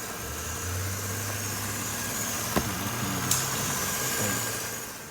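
A Mercedes-Benz C-Class W204 idles after its throttle body and MAF sensor were cleaned, a low steady engine hum with a couple of faint clicks and no talk.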